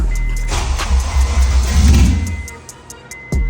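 A Honda Fit with a swapped K24 engine and an unprogrammed key cranks and catches briefly before the immobilizer cuts it. Engine noise swells, then drops away, and a short click follows near the end.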